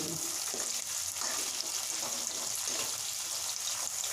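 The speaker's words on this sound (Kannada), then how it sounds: "ಎಣ್ಣೆ ಚೆನ್ನಾಗಿ ಕಾಯಿಸ್ಕೊಂಬಿಟ್ಟು ಕ್ಯಾಪ್ಸಿಕಮ್ ಹಾಕ್ಕೊಳ್ಳಿ" Capsicum pieces frying in hot oil make a steady, dense sizzle and crackle that fills the whole stretch at an even loudness, close up with no talking.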